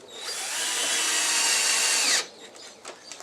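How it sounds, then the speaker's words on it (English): An electric screw gun drives screws while installing a door knob, whirring steadily for about two seconds, then stopping abruptly, followed by a few faint clicks and knocks. "Now for this one I use an electric screw gun, or drill"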